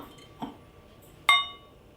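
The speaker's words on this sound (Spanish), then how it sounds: "Ok, ahora vamos a abrir la botella de vino" A bottle of Doña Paula Malbec wine being opened: a soft knock, then a single sharp, ringing glass clink close by, with no talking.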